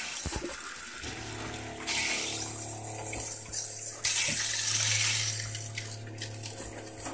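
Water runs steadily from a faucet fed by a pressure tank, with no pulsing. The rushing flow is continuous and close, stepping up in loudness twice, with no talking.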